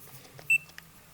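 A multimeter in continuity mode gives a single short, clear electronic beep, close and isolated against a quiet workshop background on a 1974 Corvette Stingray wiring project.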